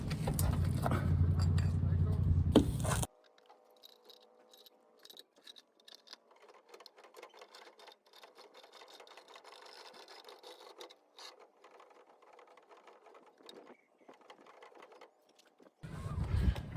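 A spare tire is cranked up under a 2016 Chevy Colorado, giving faint, steady mechanical clicking and ratcheting for several seconds, set between louder stretches of talking before and after.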